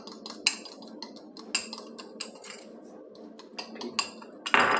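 A spoon clinks and scrapes against a bowl while a wrap filling seasoned with black pepper is stirred, giving a run of close, irregular metallic taps ending in a louder rattle, with no talking.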